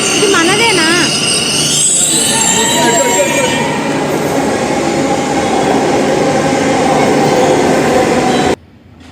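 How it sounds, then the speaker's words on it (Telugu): A metro train pulls into a Bangalore station with a loud, continuous roar and high squealing wheels and brakes, filling the platform before cutting off abruptly near the end. "ఇది ట్రైన్"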